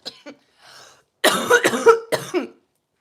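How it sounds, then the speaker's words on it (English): A short burst of harsh, close coughs, three or four in quick succession after a couple of faint breaths, then quiet. "Don't look at me when I cough."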